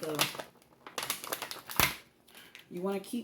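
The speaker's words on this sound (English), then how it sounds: "the plastic that's about to come off of here" Plastic wrap is peeled off a no-bake strawberry pie, making close crinkling and crackling bursts with a sharp rustle midway, while a person talks over it.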